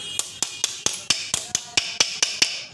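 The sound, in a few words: hammering a pin into a loader rickshaw gearbox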